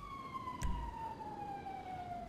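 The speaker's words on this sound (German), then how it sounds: "Und Sirene habe ich auch noch auf meinem Joystick." A vehicle siren wails in GTA V Online, a steady gliding tone over a low background rumble, with a short thump partway through and no talk.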